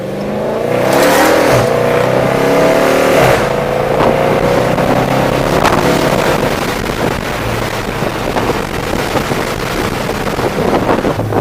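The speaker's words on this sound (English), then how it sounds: "We'll give you guys a little exhaust clip." A car engine revs hard and roars steadily, its exhaust loud and close, with wind buffeting the microphone throughout.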